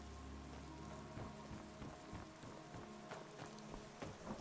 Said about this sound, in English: But let me finish right here in the rain.